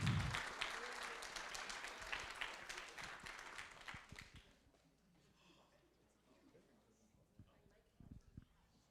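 Faint, distant audience applause for the opening presenter at the SIGBOVIK event, a soft patter of clapping for about four seconds that fades into a quiet room with occasional low thumps.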